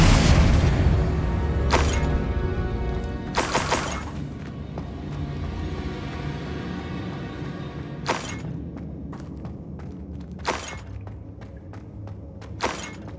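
Fire-blast spell explosions in Hogwarts Legacy on PC: several loud booming bursts with crackling, shattering debris, spaced a few seconds apart over a rumbling low game-combat background.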